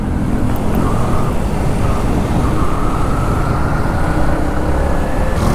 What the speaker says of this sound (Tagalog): Ayan, dito na traffic.